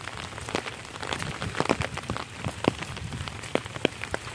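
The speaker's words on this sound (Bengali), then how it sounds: "টানা বৃষ্টি হচ্ছে, টানা বৃষ্টি পড়তেছে" Steady rain after more than a week of nonstop downpour, a continuous wash with scattered louder drops tapping nearby surfaces, no voices.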